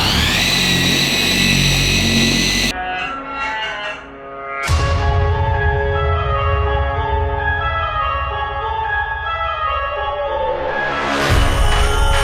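A rotary polisher cuts the paint of a BMW with compound paste. It gives a loud, close, whining motor hum whose pitch drops as it slows, then steadies at speed and climbs again as the speed rises.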